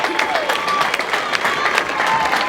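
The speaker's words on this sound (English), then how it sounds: "Give him a round of applause." A crowd applauds the King of the Mountain winner at the final stage of a cycling tour, a steady wash of clapping with faint voices mixed in throughout.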